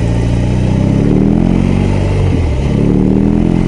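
BMW R18 B bagger motorcycle running while ridden: a loud, steady, deep engine drone with a throbbing low rumble that holds throughout and dips briefly near the middle.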